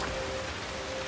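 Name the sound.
rain falling in a video game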